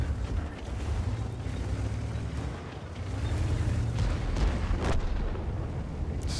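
Tank cannon shots and explosions from World of Tanks gameplay with a T-44-100, heard as deep booming blasts over a constant rumbling battle din, with sharper cracks around the middle and near the end.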